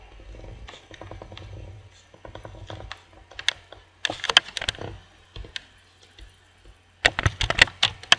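Computer keyboard keys clicking in short bursts and scattered single presses while working in Adobe Flash CS5.5, close and fairly quiet, with a denser flurry of taps near the end.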